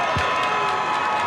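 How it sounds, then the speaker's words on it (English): Basketball crowd at a high school state championship game applauding and cheering as two players leave the floor, a loud dense roar of clapping and shouts filling the gym throughout. "the fans in the stands with green and white on applaud those two young men as they come off the floor"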